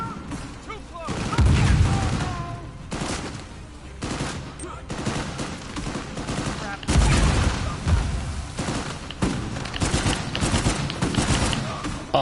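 Rapid-fire automatic weapons rattle in long, loud bursts during a close-quarters firefight in a ship's hold in Uncharted 4: A Thief's End, with booming impacts and shouted game dialogue mixed through the barrage.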